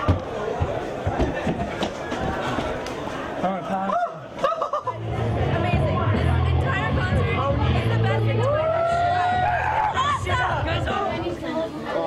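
Crowd at a Southern California rock show chattering and laughing in a steady, close hubbub, with a voice speaking through it.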